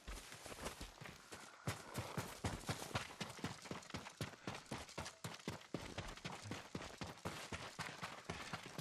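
Horses' hooves clip-clop in the video game Ghost of Tsushima, a fast and steady run of close, sharp thuds over a constant background.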